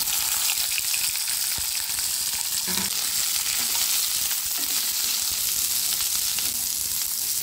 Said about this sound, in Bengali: যতক্ষণ ওখানে ভাজা হচ্ছে